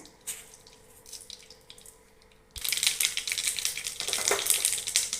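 Mustard seeds and urad dal tempering in hot ghee and oil for a cabbage fry, a faint crackle at first, then a sudden louder sizzle and spitting that carries on to the end.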